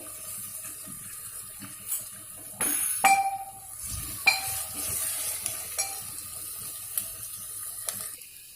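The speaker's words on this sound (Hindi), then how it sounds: "फ्लेम हाई कर दें, बीच बीच में चलाते रहें अनियन को।" Sliced onions browning in a pan over a high flame for Sindhi bugha chawal, with a steady soft sizzle, occasional scraping and clanking as they are stirred, and a few louder knocks from the utensil.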